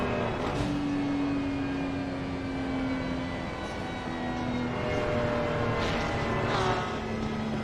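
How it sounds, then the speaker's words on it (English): Race car engine sputtering and droning steadily at Imola in a racing video game, with a sustained tonal whine that shifts pitch as the car loses fuel and slows, loud and continuous throughout. "It sounds like that car is out of fuel."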